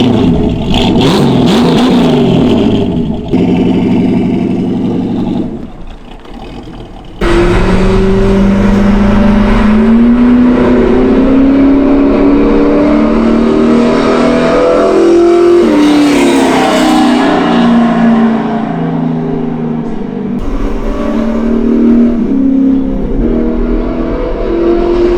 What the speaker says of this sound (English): we bolted the NASCAR boom tubes onto the Jag and we took it out to Mexico because we're gonna flippin' rip this thing